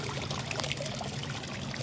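Water from a new aquarium pump filter trickles steadily and continuously at close range, an even pouring wash with no voices.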